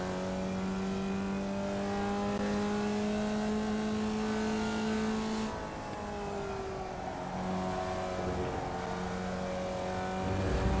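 A video-game race car engine drones in a steady high rev with layered harmonic whine, dips briefly as it shifts, then climbs again, loud and continuous with no talk.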